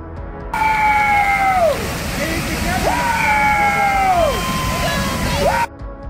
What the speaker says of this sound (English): Here's a recent view of Yellowstone's new vent, which geologists shared online,